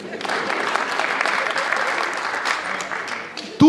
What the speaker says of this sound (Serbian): dajte aplauz